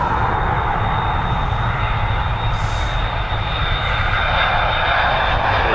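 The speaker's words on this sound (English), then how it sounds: "Chicago to Dublin, Airbus A330-300, Reg EI GCF." Airbus A330-300 jet airliner operating at Dublin Airport, a steady, loud broadband engine roar holding constant throughout with a faint high whine, no talk.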